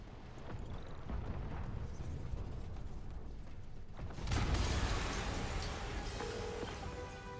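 A sudden explosion erupts in the Spider-Man video game, a loud broadband blast hitting about four seconds in after a steady rumbling game soundscape, then leaving a sustained roar of debris and noise.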